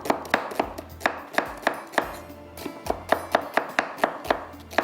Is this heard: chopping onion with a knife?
yes